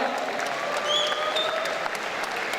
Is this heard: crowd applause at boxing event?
yes